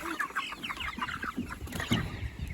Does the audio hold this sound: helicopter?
no